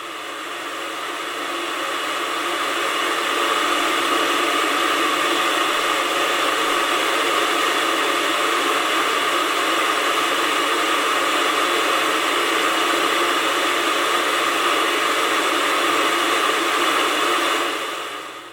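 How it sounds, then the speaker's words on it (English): A vacuum former for making custom mouthguards runs with a steady, loud mechanical whirring hum, continuous without a break, cutting off at the very end. "Turn the vacuum former off."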